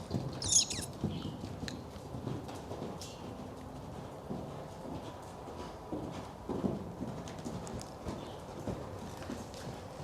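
A horse canters around an arena in a steady rhythm of soft hoofbeats, faint and somewhat distant, with low background noise and no talking.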